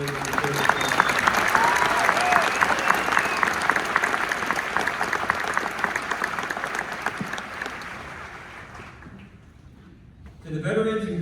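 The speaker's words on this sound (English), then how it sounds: "let's give a round of applause to the Maneuver Center of Excellence Band" At an army OSUT graduation, the audience applauds the Maneuver Center of Excellence Band in a long, dense wash of clapping with scattered cheers. It fades out near the end before a voice begins speaking.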